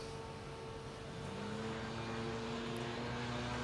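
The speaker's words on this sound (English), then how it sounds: "tries another burnout over here on the right-hand side" A silver Dodge Hellcat does a burnout at a drag racing event, heard as a steady, somewhat distant engine drone whose pitch climbs partway through, with no talk.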